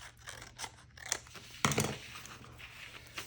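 Scissors snip through paper scraps in a few close, crisp cuts, with one louder slicing crunch in the middle and light paper rustling around it.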